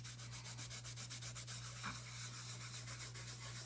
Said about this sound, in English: So I'm going to take some wipes, start working on it.